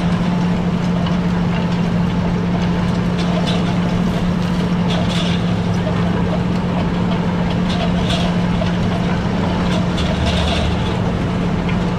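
A tractor engine runs steadily at a constant low drone, loud and close, with faint clatter over the hum.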